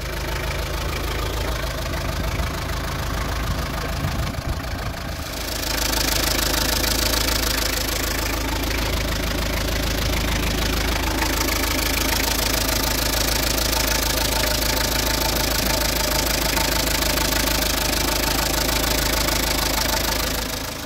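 A van's engine runs during a jump start with heavy cables attached, a loud, steady mid-to-low idle with a knocking rumble that rises in intensity partway through and holds, close by with no talk.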